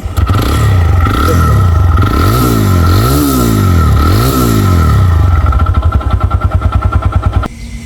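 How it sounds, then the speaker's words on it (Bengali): A 2022 TVS Rider 125cc motorcycle engine runs close and loud, revving up and down in repeated swells before settling into a rapid idle putter that cuts off at the end. "তো বাইকের যদি সাউন্ড কোয়ালিটি দেখাই"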